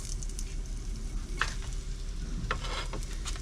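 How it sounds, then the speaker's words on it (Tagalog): Ginger sautéing in leftover oil from frying tilapia gives a steady, close sizzle with a few brief scraping stirs. "Gisa tayo luya"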